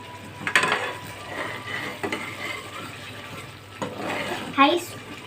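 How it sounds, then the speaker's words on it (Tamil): Milk is stirred in a pan over high flame while cooking down into palkova, with soft scraping and clinks of a spoon against the pan, occasional louder knocks, and a faint sizzle underneath. "ஹை ஃப்ளேமில் வச்சு நம்ம வந்து கிண்டிகிட்டே இருக்கணும்."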